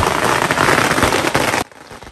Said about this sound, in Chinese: 鞭炮声动